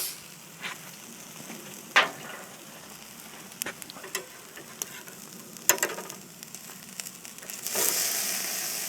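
Burgers and salmon sizzle on a grill after being flipped, a soft steady crackle broken by sharp pops and ticks, with a louder hiss swelling near the end and no voices.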